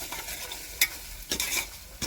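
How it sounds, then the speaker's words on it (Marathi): Soybeans and spiced masala with peanuts sizzle in oil for a tempering, with a spoon stirring and scraping in two short bursts over a low, steady fry. "आता मस्त मसाला परतून घेतल्यानंतर मग सोयाबीनला त्याला फोडणी देऊ."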